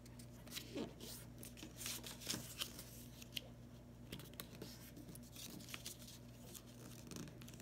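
Paper is folded and creased by hand into an origami bookmark, close up and fairly quiet, with scattered crinkles, brushes and sharp little taps in an irregular rhythm and no talk.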